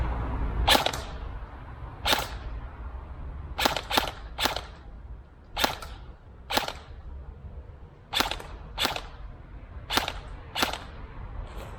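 An airsoft AR15 DMR rifle fires BBs at an indoor wall, a series of sharp, close snapping shots spaced irregularly, some in quick pairs, over a quiet background.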